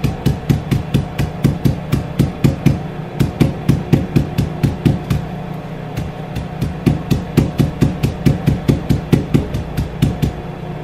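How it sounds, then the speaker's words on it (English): Rapid, sharp hammer blows crushing something early in the morning, dozens of loud, evenly paced knocks continuing steadily with no talking. "Using a hammer."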